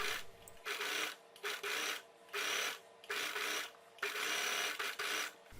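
A sewing machine top stitching along the edge of fabric binding on a Hong Kong seam: several bursts of rapid whirring stitches separated by short pauses, close and alone.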